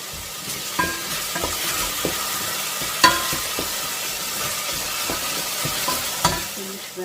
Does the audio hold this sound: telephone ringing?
no